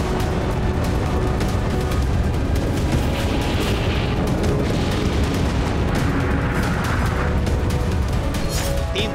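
An explosion effect for the atomic bomb dropped on Nagasaki: a loud, continuous roaring rumble that fills the whole stretch without pause, dense and heavy throughout.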